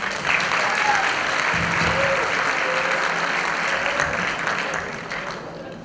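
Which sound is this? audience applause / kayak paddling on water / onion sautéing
audience applause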